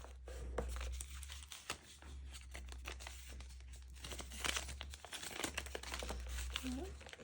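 Paper folded by hand for a tag-shaped junk journal page, close crinkling and creasing rustles in irregular bursts, with a low steady hum and some talk underneath.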